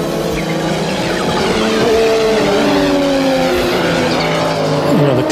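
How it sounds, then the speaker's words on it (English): An Audi quattro five-cylinder race car engine roars continuously at high revs, pitch sweeping up and down through gear changes, loud and close with a brief tire squeal near the end. "It was quattro, and it was the power of the five-cylinder engine."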